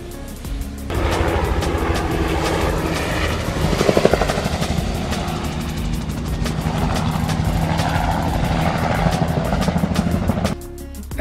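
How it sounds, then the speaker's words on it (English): Helicopter spraying for screwworm fly, a loud close rotor drone with rapid chopping beats and engine whine, sustained for about ten seconds before dropping away. "Here they are using a helicopter to spray for the screwworm fly."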